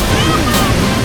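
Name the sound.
strong rushing water at Franklin Falls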